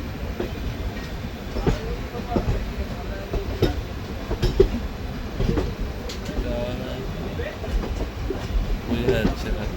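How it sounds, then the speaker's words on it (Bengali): Train pulling into a station at night on the Aranyak Express route near Bishnupur: a low continuous rumble with scattered clanks and rail clatter, heard from inside the carriage, with faint voices mixed into the background. "কোন ট্রেন ঢুকছে বুঝতে পারা যাচ্ছে না,"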